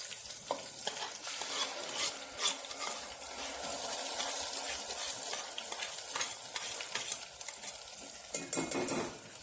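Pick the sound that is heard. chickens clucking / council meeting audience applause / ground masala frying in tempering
ground masala frying in tempering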